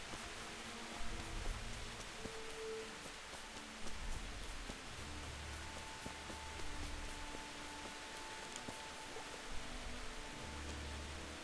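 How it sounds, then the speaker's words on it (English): Steady, soft rain hiss in the video game Kingdom Come: Deliverance fills the scene, even and continuous with faint low rumbles beneath, no voices. "even though it's raining"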